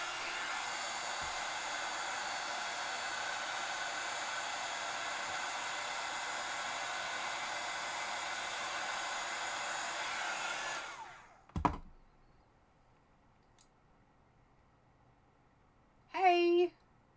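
A heat tool drying Inktense paint on a bird painting blows with a loud, steady roar for about eleven seconds, then cuts off, followed by a brief clunk and a short burst of noise.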